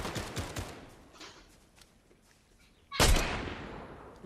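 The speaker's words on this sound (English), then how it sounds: "They about to start shooting back" Gunfire in the video game Fortnite: a loose spatter of distant shots at the start, a quieter stretch with faint scattered pops, then a sudden loud close blast followed by a dense burst.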